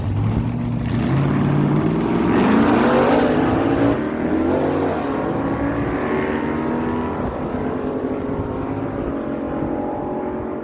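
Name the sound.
1969 Ford Torino and 1992 Ford F-150 drag racing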